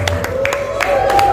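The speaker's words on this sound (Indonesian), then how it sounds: "Boleh tepuk tangan dong untuk produser kita." Audience applause at a film press conference: scattered claps at an indoor event, heard under a presenter speaking over a microphone.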